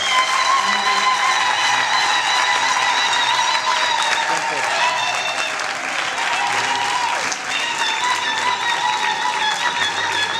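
Sustained, dense applause fills a hall at an honorary doctorate ceremony at the University of Kinshasa, loud and continuous throughout, with faint voices mixed in.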